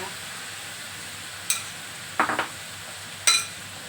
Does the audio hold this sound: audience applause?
no